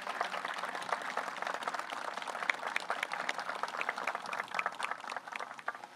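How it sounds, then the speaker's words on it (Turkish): A crowd claps steadily and continuously for firefighters returning from a fire zone, the sustained crackling applause filling the space without any talking. "Onları alkışlamanızı istiyorum."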